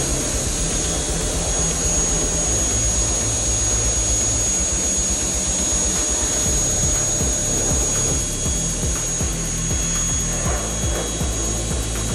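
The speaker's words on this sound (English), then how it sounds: "then we're going to pressure wash this sucker" A loud, steady high-pressure hiss and spray from a pressure washer cleaning a Ford 302 V8 engine runs unbroken over a droning motor, with rough spattering texture throughout and no talking.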